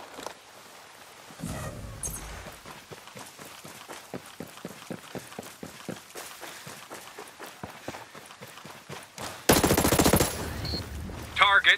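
Rapid gunfire crackles through a Ghost Recon Breakpoint PvP match, with bursts of automatic shots and scattered single reports over running footsteps, ending in a louder close burst.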